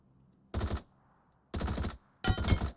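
Automatic gunfire from PUBG Mobile comes in three loud, rapid bursts separated by short silences, each burst a dense rattle of shots.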